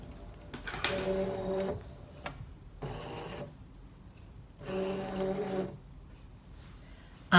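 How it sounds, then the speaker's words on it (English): A Brother ScanNCut machine loading a cutting mat whirs in three separate motorized bursts with short pauses between, a mechanical feed hum ending in a sharp click. "So I'm going to load this mat now into the machine."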